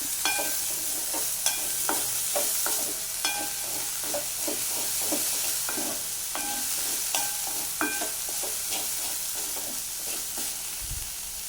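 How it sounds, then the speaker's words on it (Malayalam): Long beans for a Kerala-style thoran sizzle steadily in a pan while a spoon stirs and scrapes through them in regular knocks, close and alone with no talking. "ഉപ്പ് ചേർത്ത് കൊടുക്കാം ഇത് നന്നായിട്ടൊന്ന് ഇളക്കാം"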